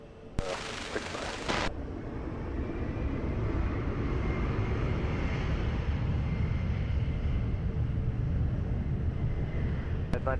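An airliner taking off at Lisbon Airport, a broad steady engine roar building and holding loud throughout, with a brief burst of radio static at the start.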